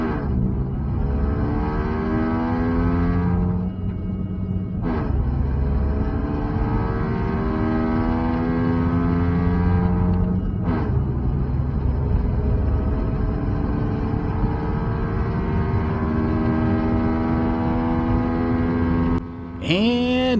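A supercharged Kubota diesel engine pulls under hard acceleration, a steady loud rumbling drone with rising harmonic sweeps throughout, briefly dipping near the end as the note shifts.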